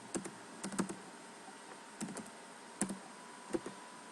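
Computer keyboard typing as code is entered, with sparse clusters of crisp key clicks separated by pauses, close and fairly quiet over low room hiss and no talking.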